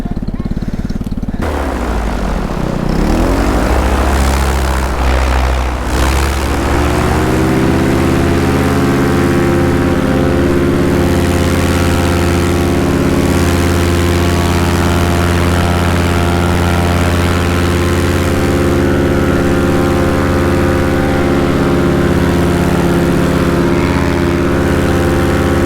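A paramotor's engine and propeller at takeoff with wind, revving up and then holding a loud, steady, close drone with strong harmonic whine throughout, no talking over it.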